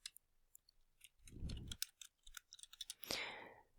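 Keys clatter on a computer keyboard in quick, uneven bursts, a mix of soft taps and a few sharper clicks, close and fairly quiet, with no voice over them.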